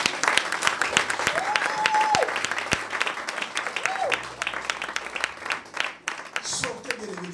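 A church congregation applauds and cheers the Lord, a dense, sustained wash of clapping and crowd noise with a voice calling out over it.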